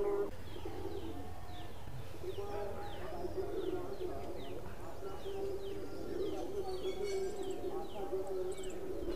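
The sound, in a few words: Madrasi Highflyer pigeons cooing at the loft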